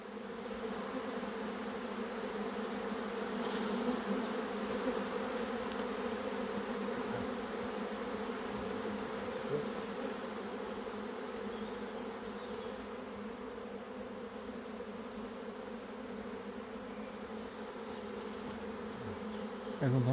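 A honeybee swarm is gathered gently by hand. The dense, steady buzz of many bees stays close and continuous for the whole stretch, with faint handling bumps and no speech.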